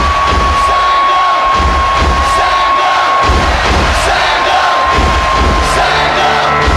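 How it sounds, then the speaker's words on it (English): A large crowd at an awards gala in Kenya claps and cheers loudly, the sustained roar broken by thumps and whoops, with a steady electronic tone running beneath from the hall's sound system. "let's give a round of applause to Eco Bristol."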